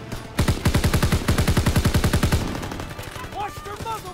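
Heavy automatic gunfire from a WW2 video game, a fast regular burst of loud close shots lasting about two seconds, then fading into ambient battle noise with faint tonal sounds.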